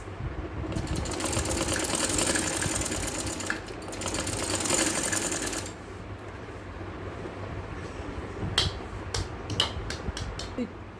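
An electric sewing machine runs fast, stitching piping onto a kameez in two long continuous bursts that stop and start, followed by quieter handling noises and a few sharp clicks.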